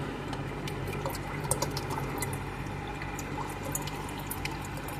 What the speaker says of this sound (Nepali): ल यिनीहरूलाई पानी म लगाइदिन्छु।